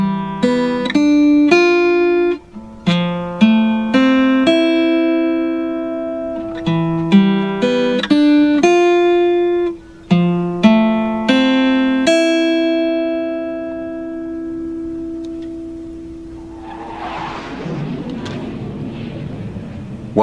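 A guitar picks the treble clef line notes one after another in a steady, clean melodic run, ending on a long ringing note that fades under a soft noisy rustle.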